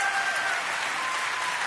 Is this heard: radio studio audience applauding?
yes